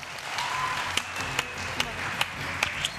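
Studio audience applause on a Turkish TV style competition show, a moderate wash of clapping with a few sharper isolated claps standing out, steady throughout.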